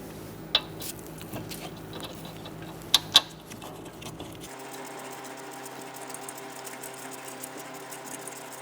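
Rear hub assembly bolts on a 2014-2019 Kia Soul being started and turned by hand, giving quiet ratcheting clicks and a couple of sharp metallic taps, followed by faint mechanical ticking under a low steady hum.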